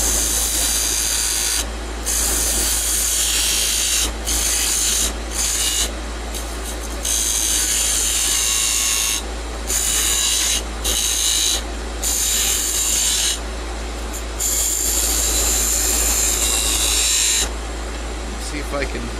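Wood lathe turning a wooden chess pawn, a loud steady whir with bursts of gouge cutting and scraping that break off in brief pauses.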